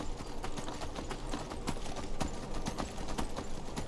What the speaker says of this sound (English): the horse I'm riding is from the wild horses from the Creation Club